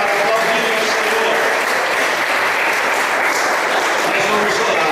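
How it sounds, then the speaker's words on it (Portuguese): A church congregation claps together in a dense, sustained round of applause, loud and close, with voices mixed into the clapping. "Se coloque em pé, aplaudindo ao Senhor"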